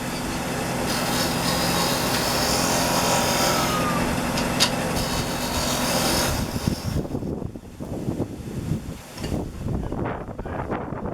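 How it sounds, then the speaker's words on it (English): A wood lathe turns a wooden sphere while a skew chisel, held flat as a scraper, works the surface, giving a steady loud broadband whir and scraping hiss for about seven seconds before it stops and quieter knocks and handling noises follow. "you can do it with a skew chisel as a scraper"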